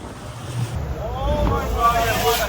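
Wind buffets the microphone over a boat's low engine rumble and splashing water on open sea off the Galapagos, heading to the Lava Tunnels, steady and fairly loud throughout.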